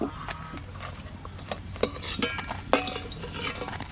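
Fried red lentil fritters being lifted out of a hot pan of oil, with metal utensil scrapes and clinks against the pan over a soft sizzle, in short irregular bursts close to the microphone.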